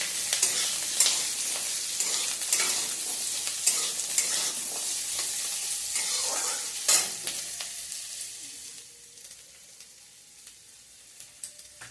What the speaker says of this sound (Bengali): এবার দেব আলু আর লঙ্কা, কুচানো লঙ্কা।